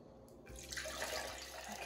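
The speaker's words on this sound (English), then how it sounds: "I'm gonna water this one through." Water poured onto an orchid in its pot, a steady splashing and trickling that starts after a brief quiet moment and continues close by without talk.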